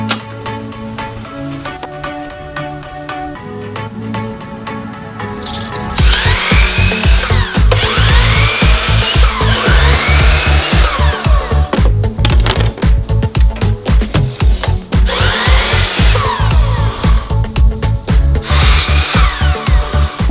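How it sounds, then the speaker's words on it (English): A power saw cuts butcher block trim pieces outdoors, running loud and continuous with rapid repeated strikes, after a few seconds of quieter background music. "set up my miter saw, and started making cuts."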